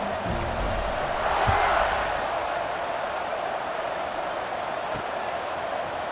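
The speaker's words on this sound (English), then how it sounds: "They're set to kick it off, and this crowd now ready to get behind them." Stadium crowd in the college football video game EA Sports College Football 26 roars steadily before a kickoff, swelling slightly around the middle, with faint low voices underneath.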